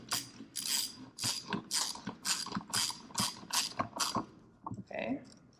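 A ratchet tightens a bolt while a new part goes onto a Ram Charger build, about ten crisp rhythmic clicking strokes close up, then a brief pause and a few lighter clicks.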